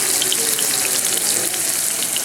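Mahi-mahi fillet sizzles in olive oil in a hot pan, a loud, continuous close crackle and hiss with tiny pops throughout.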